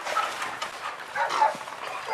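Grown puppies in a Siberian town yip, whimper and bark in short, scattered outbursts at close range, with no talk.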